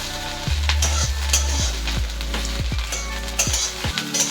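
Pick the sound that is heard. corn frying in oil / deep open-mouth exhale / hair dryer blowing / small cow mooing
corn frying in oil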